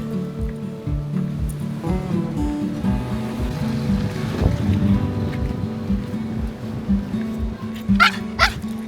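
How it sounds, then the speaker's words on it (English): A dog barks repeatedly and loudly at a seaside camping spot at the end of the Palm Cove Esplanade in Far North Queensland, the barks coming in a steady run over low wash and ambient noise. "Oh my gosh, dog."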